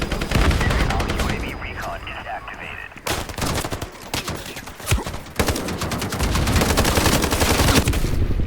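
Rapid bursts of gunfire and a rocket blast crackle loudly and almost continuously in a free online shooter game, under a player's excited talk.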